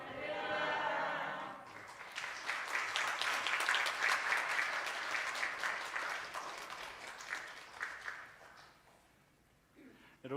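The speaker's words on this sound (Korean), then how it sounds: "또 박수로 환영하도록 하겠습니다." A church congregation breaks into sustained applause, many hands clapping steadily for several seconds to welcome a speaker before it fades out near the end.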